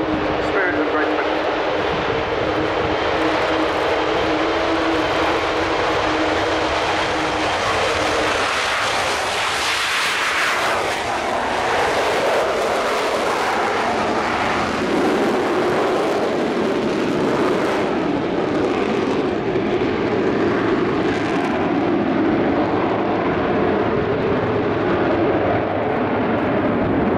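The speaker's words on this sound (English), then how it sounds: "Avro Vulcan B2 Spirit of Great Britain." Jet engines of an Avro Vulcan B2 bomber roar continuously overhead at an air show, a loud broad rumble that swells and shifts as the aircraft passes, with a voice talking faintly throughout.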